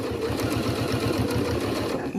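A sewing machine topstitches around a shirt cuff, a close, fast, even mechanical whirring and pulsing of the needle that runs steadily for a couple of seconds.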